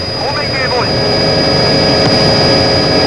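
A steady, loud whirring drone of a 1990s Tokyo police helicopter in flight fills the clip, with a faint high whine running throughout.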